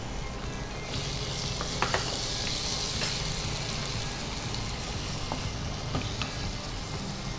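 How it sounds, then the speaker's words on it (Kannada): Small jackfruit pieces stirred as they cook in ghee, giving a steady close sizzle with a few faint scrapes and taps of the spoon throughout. "ಅದೊಂದು ಸ್ವಲ್ಪ ಬೇಯುವವರೆಗೆ ಅದನ್ನು ಮಗ್ಸ್ತಾ ಇರಬೇಕು."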